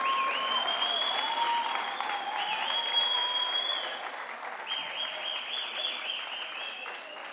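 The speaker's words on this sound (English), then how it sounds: "as we give her a round of applause as she comes to take the stage" Applause from an audience greets an honoured guest coming on stage at the official opening of the National Arts Festival 2022, steady clapping with tonal whistles or ringing tones layered over it, fading slightly toward the end.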